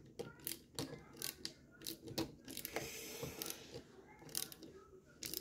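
A small replacement part being screwed onto a Naval Commander action figure makes a series of faint, close ratcheting and clicking turns in irregular bursts.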